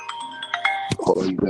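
A phone rings with a bright electronic chime, a short repeating tonal melody much like a doorbell ding-dong, close and fairly loud, with a voice cutting in near the end.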